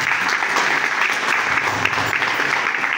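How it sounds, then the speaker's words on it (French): An audience at an official installation ceremony of the Malian council in Gabon applauds, a dense, continuous burst of clapping, loud and close throughout. "Monsieur Diallo Ousmane, sous vos acclamations, s'il vous plaît."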